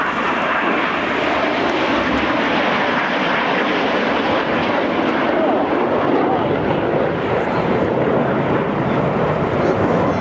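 Red Arrows jets performing barrel rolls at the Folkestone airshow, a loud continuous roar of jet engines with wind buffeting, steady throughout, while an announcer's voice runs underneath.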